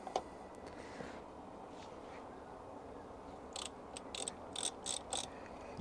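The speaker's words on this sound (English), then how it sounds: "get yourself 13mm socket and undo the two caliper mounting bracket bolts" A ratchet fitted with a 13mm socket clicks as it undoes the brake caliper mounting bracket bolts on a BMW S1000R motorcycle. Faint low clicking comes first, then a close series of sharp ratcheting bursts near the end.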